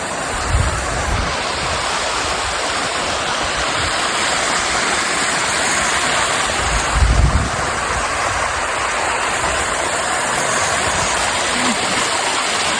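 Hot sulphur spring water pours at the Curug Genting waterfall in Giritirta, Pejawaran, a loud, steady, close rushing roar that continues without a break from start to end.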